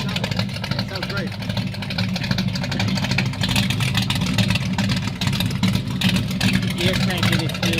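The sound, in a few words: 1966 Mustang engine running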